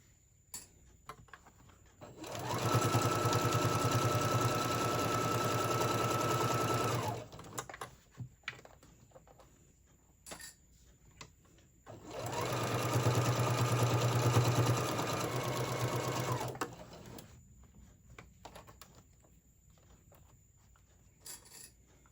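A sewing machine runs along the edge of a fabric tote bag in two long, even bursts of about five and four seconds, separated by a quiet gap with small handling clicks, loud and close.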